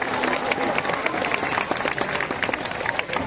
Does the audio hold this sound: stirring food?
no